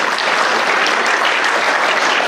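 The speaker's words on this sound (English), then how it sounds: "Let's clap it up for our modern students." Dense, steady applause from a school auditorium crowd at an athletic hall of fame induction, clapping for the students, loud and continuous throughout without a break.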